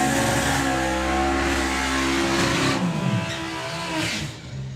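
A Volkswagen Passat drag car at a Bug Jam drag racing event roars hard down the strip, a loud engine howl climbing through the gears then fading slightly as it pulls away.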